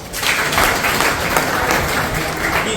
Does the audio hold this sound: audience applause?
yes